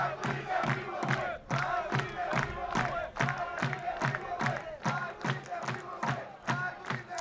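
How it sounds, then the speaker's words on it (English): A small crowd of about eight fans at a men's college soccer match, Carthage vs. North Park, chanting and cheering in a rhythmic, repeated pattern of shouts, energetic and steady throughout. "It's an energetic crowd today. I'll tell you, for 8 Carthage Crazies, they make a lot of noise."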